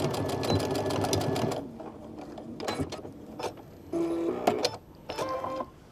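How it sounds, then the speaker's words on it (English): A sewing machine stitches along the edge of denim for a clutch, whirring in a fast, close mechanical rattle at first, then pausing and restarting in short bursts with clicks and a brief beep-like tone between runs. "we're just going to sew as close to that edge as possible"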